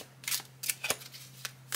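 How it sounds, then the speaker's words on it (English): A Pamela Colman Smith commemorative Smith-Waite tarot deck being shuffled, several quiet, close riffling bursts of cards spaced irregularly over a faint steady hum, with no talking. "They shuffle fine. They shuffle very nicely, as a matter of fact."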